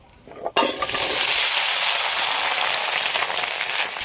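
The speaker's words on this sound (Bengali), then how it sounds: "এবার কড়াইয়ের মধ্যে দিয়ে দেবো কেটে রাখা পেঁপে আর আলু।" Cut papaya and potato tipped into hot oil in a wok, a brief clatter followed by a sudden loud, dense sizzle that holds steady and close to the end.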